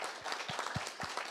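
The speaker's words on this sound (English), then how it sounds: "we also give you an applause for" An audience at a security panel event claps briefly, a brisk patter of many hands over a second or so, moderately loud and close.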